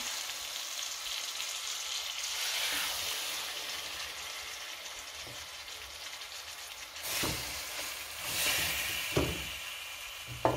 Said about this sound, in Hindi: लेग को कढ़ाई के अंदर मैं डाल दूंगी।